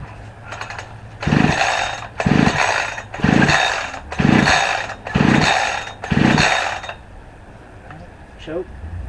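A budget Temu 72cc chainsaw is pulled over and over for its first start, giving six loud, evenly spaced rasping bursts of the recoil cord cranking the small two-stroke engine, followed by quieter handling noise.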